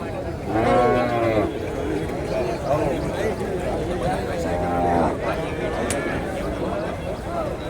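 A busy crowd of native cattle lowing and mooing at the Madrapalli cattle market in Tirupattur district, India, over constant murmuring voices and shuffling, dense and continuous.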